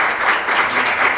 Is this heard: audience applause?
yes